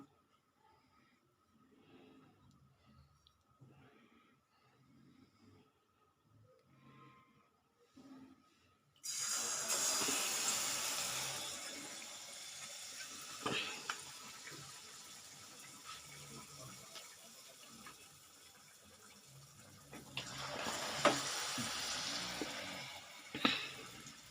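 Banana fritters (pazham pori) drop into hot oil in a home kitchen, and after a long, near-silent stretch with faint talking a loud, steady sizzle suddenly erupts, carries on, and swells again toward the end.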